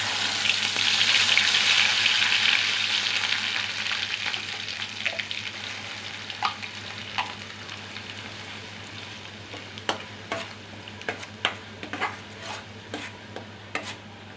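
Ground masala hits hot oil in a pot for a spicy village-style mutton curry, a loud hissing sizzle that slowly fades, then gives way to scattered spoon clinks and scrapes against the vessel.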